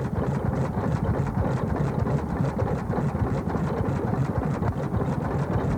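An old restored stationary engine fitted with an American Bosch impulse magneto runs steadily nearby, a dense, loud, low rumbling chug with a fast, even firing rhythm throughout.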